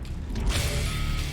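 Mechanical clicks and metallic creaks of a weapon being reloaded in Warzone, a short continuous rattle of parts sliding and locking, close and fairly loud with no talk.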